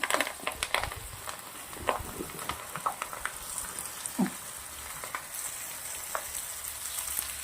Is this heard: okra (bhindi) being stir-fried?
yes